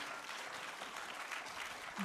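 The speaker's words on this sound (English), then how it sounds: "give them a big round of applause as they do" Audience applause for a Grade 4 class theatre performance, heard faintly and at a distance as a continuous, even patter of clapping across the whole stretch.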